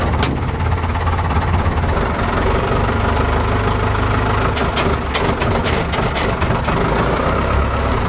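Diesel car engine idling after a preheat start, a loud, rough and steady low rumble with knocking clatter, running alone without talk.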